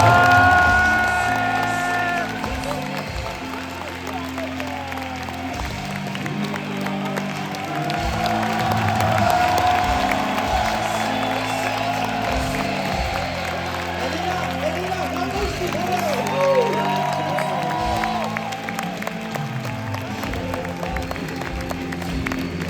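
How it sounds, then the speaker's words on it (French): Festival crowd at a fantastic film festival night screening in Gérardmer applauding and cheering, a loud sustained roar of claps with whoops and shouts that swells midway and carries on throughout. "je vais vous demander d'applaudir bien fort"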